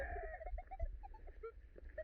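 Chickens cluck softly in short, scattered calls nearby, with low background rumble and no voices.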